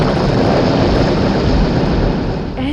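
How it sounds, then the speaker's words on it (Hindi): A heavy downpour of rain pours down steadily as a dense, continuous roar, loud and unbroken throughout, with no voices. "मूसलाधार बारिश हुई।"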